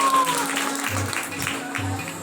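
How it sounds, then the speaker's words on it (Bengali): Audience applause at a Jhulan Yatra festival gathering at ISKCON Kagmari, Tangail: a dense, continuous wash of clapping throughout, with a faint tone at the start. "এই জন্য সবাইকে জোরে করতালি প্রভুর জন্য।"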